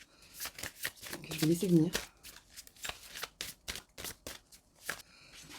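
Tarot cards shuffled by hand in a quiet room, a rapid riffling burst of papery flicks and soft slaps, followed by scattered card taps, all under a woman's steady French-speaking voice.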